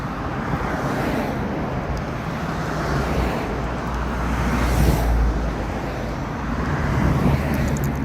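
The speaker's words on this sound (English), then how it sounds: "This is that evening rush hour traffic." Evening rush hour road traffic in the Atlanta suburbs of Henry County, Georgia: a dense, continuous wash of passing cars and tire roar with gusty wind noise, steady and loud throughout, no voices.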